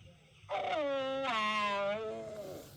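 A human voice imitates a lion's loud howling noise: a single long, drawn-out wavering wail rising and falling in pitch, close and alone.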